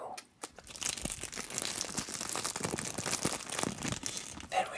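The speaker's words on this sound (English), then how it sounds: "Let's get some of that good wrapper crinkle" Plastic wrapper of a paleta payaso candy crinkling close up, with dense, continuous crackling and rustling throughout and a brief pause near the start.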